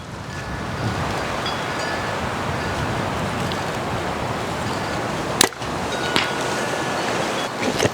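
Gusty wind buffets a microphone outdoors at an archery range on a blustery day, a constant roaring rumble that swells briefly with a sharp thump near the end.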